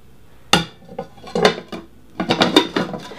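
A spatula clacks and scrapes against a Graniterock nonstick frying pan as food is flipped, giving several sharp metallic knocks and rattles close up with short pauses between them.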